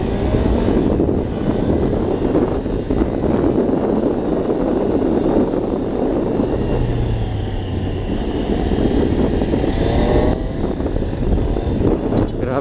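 Triumph Trident 800 motorcycle, a 2026 model, pulling hard under acceleration on an open ride, its engine roar swelling continuously beneath heavy wind buffeting at the microphone.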